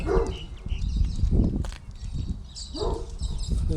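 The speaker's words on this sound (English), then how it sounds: "I don't care about being barked at." A Great Dane barks outdoors on a walk, a few loud, deep barks spaced across a few seconds over street ambience and some birdsong.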